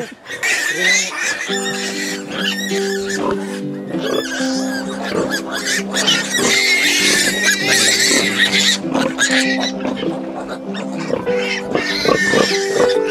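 Pigs on a farm where a sow has just farrowed grunt and squeal steadily over a noisy background, with people talking and a voice singing over the animals throughout.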